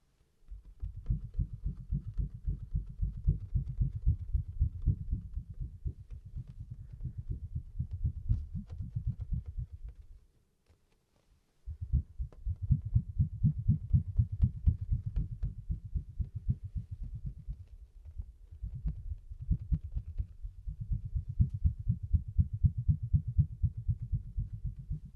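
A big, very thin Lego piece is rubbed and tapped close to the mic in rapid, soft, low thumping bursts, steady textured rhythm with a short pause midway, no voice.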